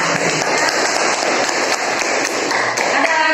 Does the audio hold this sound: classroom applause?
yes